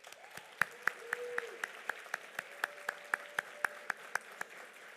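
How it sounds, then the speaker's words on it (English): Applause from an audience at an engineering college alumni awards ceremony, a sparse run of individual claps with a sustained tone beneath, fairly faint and distant. "Lauren Morton and David Torello, please stand for a round of applause"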